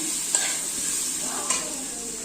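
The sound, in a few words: boiled jackfruit poured into pan and stirred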